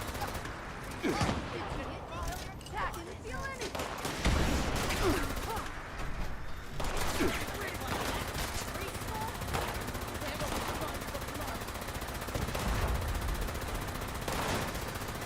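Video game gunfire from Fallout 76, loud overlapping bursts and rapid shots running almost continuously through the clip, with other game sounds layered underneath.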